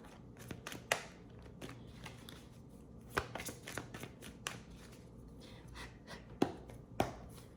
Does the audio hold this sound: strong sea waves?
no